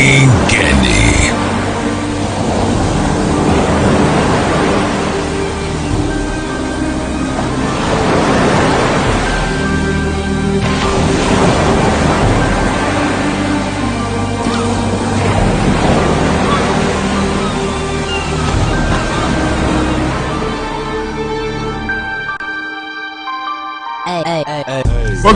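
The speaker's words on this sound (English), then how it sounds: "when you hear the sounds of the ocean" Ocean surf rolling in as a show intro, loud broad washes of waves swelling and breaking in slow cycles every few seconds, ending with a faint tonal sting.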